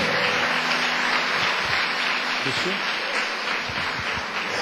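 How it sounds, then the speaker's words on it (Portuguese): A church congregation applauds together, a dense, steady wash of clapping that carries on evenly for several seconds. "pode aplaudir o Senhor mesmo"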